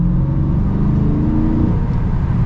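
A 2021 Dodge Challenger Widebody Scat Pack Shaker in sport mode gives a steady, loud, close engine drone under throttle from inside the car, with no voices over it.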